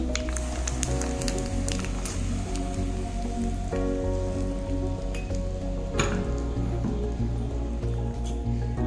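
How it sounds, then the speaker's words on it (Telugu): Hot boiled oil poured over fenugreek seeds and mango pieces for an instant mango fenugreek pickle, giving a dense, steady crackling sizzle that runs throughout with small pops. "నూనె మరిగించి ఇందులో కలిపిస్తున్నాను"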